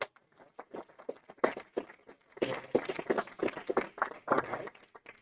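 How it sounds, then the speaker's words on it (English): An audience at a hackathon pitch event applauds, starting with a few scattered claps that thicken into a denser round of clapping, heard from a moderate distance. "An applause for them also."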